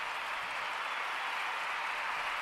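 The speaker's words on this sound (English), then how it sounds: "I got a round of applause for Billy" An applause sound effect played on a stream: a steady, hissing wash of crowd clapping, even and unbroken, at moderate volume with no talk over it.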